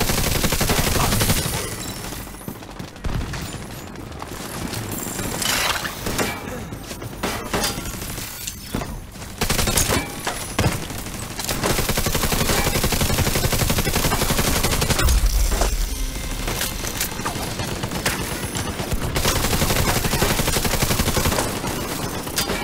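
Dense, continuous gunfire from a shooter video game, The Division 2, with shotgunners firing amid repeated loud blasts, crashes and shattering layered over a busy combat soundscape for the whole stretch.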